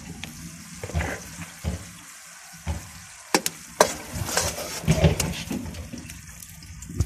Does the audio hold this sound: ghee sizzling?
yes